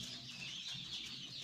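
Chicks chirping under an electric brooder inside a poultry shed, a dense steady chorus of high peeps close by, with a low hum running beneath.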